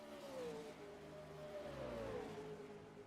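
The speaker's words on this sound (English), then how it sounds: "listen to the engine revs rise as he skips over Rise there" A simulated V8 racing car engine in a racing video game at the Badlands track revs up and holds a high, whining pitch that climbs and dips, steady and fairly close, with no talking.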